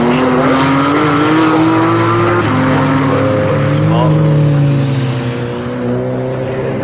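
A Lotus race car in a Roadsports club race at Snetterton circuit passes with an engine note that climbs and drops through gear changes, heard under continuous commentary from a race announcer.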